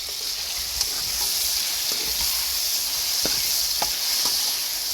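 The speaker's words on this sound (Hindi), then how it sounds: "टमाटर को भी फ्राई कर लेंगे अच्छे से अनियंस के साथ" Tomatoes and onions fry in a pan with dried red chillies, giving a loud, steady sizzle and hiss throughout, broken by a few faint stirring taps.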